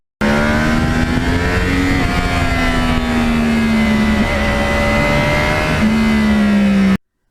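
A Yamaha R1 crossplane motorcycle's exhaust revving close and loud, a steady rumbling idle rising and falling through several throttle blips with a gritty, uneven crossplane burble, no talk over it.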